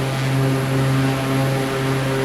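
Steady, loud drone of a Pilatus aircraft engine in Microsoft Flight Simulator 2024, a constant propeller hum with strong tonal whine, unbroken and close throughout.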